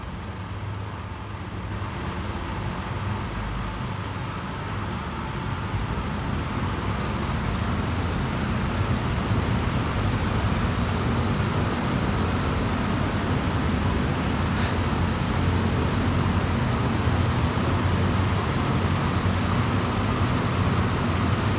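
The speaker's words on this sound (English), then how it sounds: "I want to hear the roar of these engines." Aircraft engines in Microsoft Flight Simulator, on an Idaho bush airstrip, building to a steady broadband roar as power is added with brakes held, loud and continuous throughout with no talk over it.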